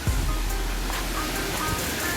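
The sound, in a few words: waterfall in Bavarian Forest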